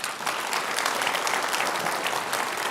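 A live audience at a flight simulation expo bursts into a full, steady round of applause, dense and sustained throughout with no pauses.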